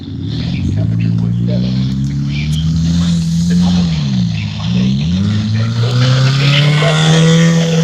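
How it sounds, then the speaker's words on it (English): Loud cars pass on a street one after another, engines droning close by, with one vehicle's pitch swooping down as it goes past mid-way. "Damn, these cars are too loud."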